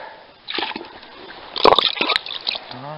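Water surging up through a freshly cut hole in river ice near a hunting cabin, a sloshing, splashing gush that swells midway and keeps bubbling, close and fairly loud.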